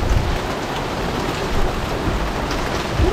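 Hail pelts a sailboat moored in Croatia, making a loud, continuous dense patter across the deck and surfaces, steady throughout with a few heavier gusts of impacts and no voices.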